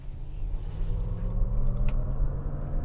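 Inside a 2023 Lexus RZ 450e electric car accelerating onto a highway in sport mode, a low steady rumble of road and drivetrain noise builds gradually, heard from the cabin.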